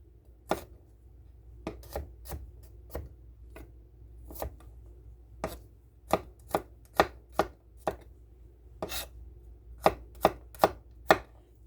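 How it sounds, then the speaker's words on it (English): Knife chopping garlic on a cutting board, with crisp, sharp thunks that start sparse and irregular, then come in a steadier, louder rhythm toward the end. The sound is close and heard on its own with no talking. "Now I'm just going to take my garlic, cut this down, and I'm just going to put this in pieces"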